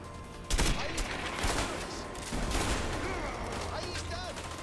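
Gunfire in A Way Out, with several sharp shots and short bursts going off close by over a few seconds against a steady background of game noise.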